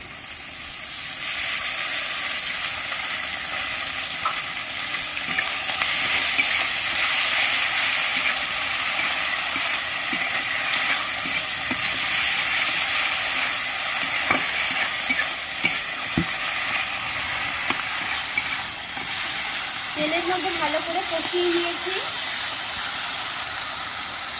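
Ground spice paste frying in hot oil for a Bengali crab curry, with a steady loud sizzle and hiss throughout, occasional scraping stirs, and a short burst of bubbling near the end.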